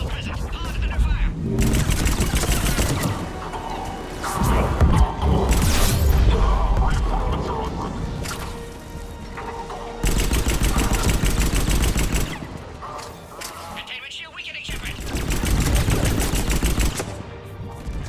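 Gunfire attack in the video game Mass Effect 3: loud bursts of shots and impacts come in waves over a busy battle soundscape, with voices talking over parts of it.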